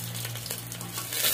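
Cumin and garam masala fry in very hot oil while a goat leg soup is prepared, giving a steady close sizzle that swells a little louder at the end, with no talking.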